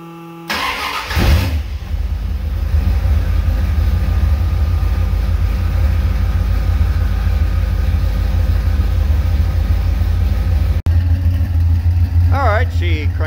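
A 1969 Dodge Dart engine cranks briefly, then fires and settles into a loud, rough, steady idle close by, with a short cut near the end and a voice briefly talking over it.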